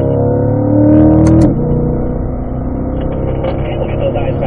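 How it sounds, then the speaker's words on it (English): A car on a driving-school track pulls hard up a hill, engine note rising steadily then dropping at a shift into fourth gear around midway, steady and close with continuous drone after. "Then we can start to get a good acceleration up the hill, and we're also going to upshift to 4th gear."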